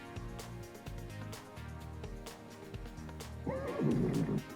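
A synthetic horse whinny rings out from an Amazon Echo Buttons horse race game, rising loud near the end over a musical backing with rhythmic beats.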